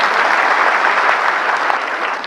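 Sustained applause from an audience gathered at a seminar, a thick continuous roar of clapping hands that holds at a constant loud level from start to finish, with nobody speaking.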